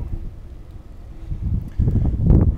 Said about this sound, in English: Probably wind of about 15 or 20 knots at the moment.